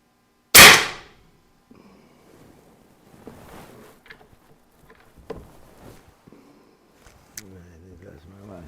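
A single sharp shot from an FX Pantera air rifle cracks loud and close, then quiet handling clicks, small knocks and faint movement follow.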